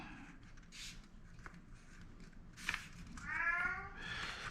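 A cat whines with drawn-out, wavering meows, the loudest cry rising near the end over a quiet room.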